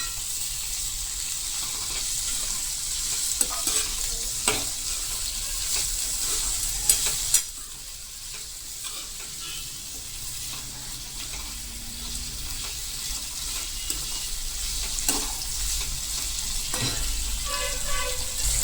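Green chillies frying in a pan over low gas for a spicy chilli curry, a constant close sizzle with repeated scraping stirs and a few louder clatters, no talking.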